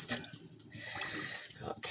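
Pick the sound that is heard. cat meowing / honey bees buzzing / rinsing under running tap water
rinsing under running tap water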